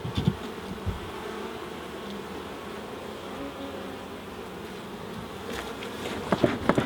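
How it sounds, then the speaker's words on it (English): A steady swarm-like buzz of many honey bees close by at an opened hive, with a few soft knocks and clicks near the start and end, and no talking. "Get the bees off of there."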